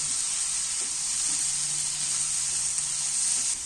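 Whole tomatoes sauté in hot oil in a pan, giving a steady, close, bright sizzle that holds evenly throughout with a few soft stirring bumps and no voices.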